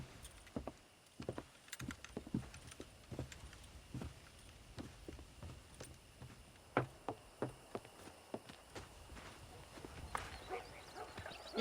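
Irregular horse hoof clops and thuds in the video game Red Dead Redemption, scattered over a low steady background, some strikes sharper and closer, no talking.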